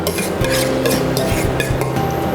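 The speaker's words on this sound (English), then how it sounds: "Stir it through. I've adopted a spatula, but of course you could use a spoon." A spatula stirs an egg and Parmesan mixture into carbonara risotto in a pan, making close, loud, repetitive wet scraping and rubbing strokes with no one talking.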